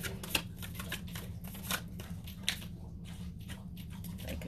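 Tarot cards being shuffled by hand give a run of soft, rapid riffling and sliding rustles with a few sharper flicks, close but quiet over a low steady hum, with no talking.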